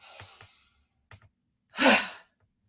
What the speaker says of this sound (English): All out on one big ha.